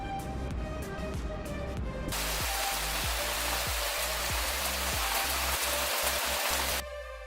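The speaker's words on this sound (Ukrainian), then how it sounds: "В цю пору часто йдуть дощі." Autumn rain falls steadily in a dense, close, even wash of droplets on surfaces, with no voices.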